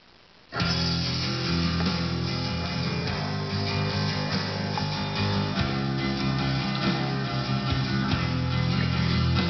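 Music from a vinyl record starts abruptly after brief quiet, playing steadily through speakers with full, somewhat muffled sound and no talking.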